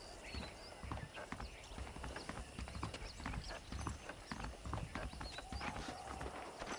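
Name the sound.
horse hooves clip-clopping in the video game Red Dead Redemption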